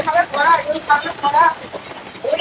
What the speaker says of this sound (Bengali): বিশাল বৃষ্টি পড়ছে